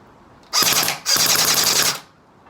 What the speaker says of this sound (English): Let's try full auto.